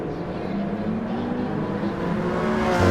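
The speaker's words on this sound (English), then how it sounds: "Engines revving and they're off." Race car engines revving together at the start of a racing video game, a continuous loud whirring drone with rising harmonic tones that swells louder toward the end.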